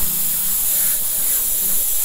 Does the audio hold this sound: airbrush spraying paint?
yes